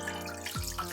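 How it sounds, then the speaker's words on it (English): Warm milk pours into a stand mixer bowl while hot cross buns are being made, a short close liquid gush that sweeps downward in pitch. "we're going to pour this warm milk"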